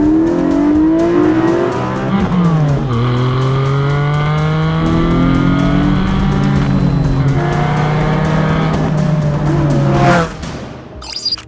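Porsche 718 Cayman GT4 or Boxster Spyder flat-six engine, loud and close, revving hard through gears with rising pitch sweeps and shift drops, then fading away at the end.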